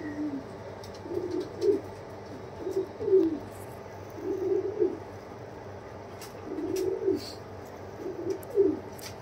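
A breeding pair of pink-beaked, netted dubwala pigeons coos in repeated soft, rolling bursts at a steady rhythm, close by and moderately loud over a quiet background.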